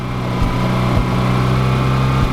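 Mazda RX8 rotary engine running rough after flooding from sitting about two weeks, a steady low idle drone with periodic low thumps roughly every half second, close and fairly loud, no voices.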